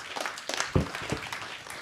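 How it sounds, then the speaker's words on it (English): Brief applause for a panel at a theater talk session, a short burst of scattered clapping from a modest audience, fairly faint and fading out within a couple of seconds. "So one more round of applause for our amazing panel here."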